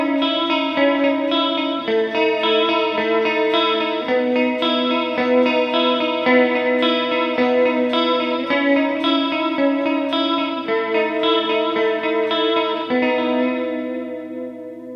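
An electric guitar played through a Mooer GE300 with delay and two effects blocks on and distortion off gives shimmering, sustained chorus-like tones. Notes shift every second or two and trail off with echo at the end, with no voice.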